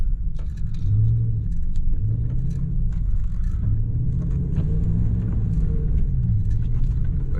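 A Ram pickup truck's engine rumbles steadily and loud while the truck drifts sideways, a continuous low drone with slight rises in pitch as the throttle varies, no talk over it.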